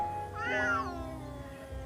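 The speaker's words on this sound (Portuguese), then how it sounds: "E o miado foi aumentando" A single drawn-out cat meow, rising then falling in pitch, fairly close and clear over a low background hum.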